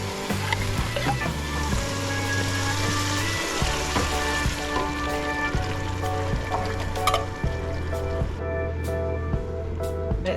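Cream of chicken soup, black beans, diced tomatoes and green chilies with cumin and chili powder sizzling together in a pan over raised heat, a continuous close bubbling fry with occasional stirring scrapes.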